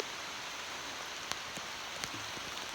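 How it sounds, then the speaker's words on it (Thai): Rain falling outdoors on the way to a farm, a soft even hiss of drops with a few sharper individual splats and taps scattered through it, fairly quiet and with no talking. "ฟ้าบ่เห็นใจเลยย่างมาบ่ฮอดให้ฝนตกกลางทาง"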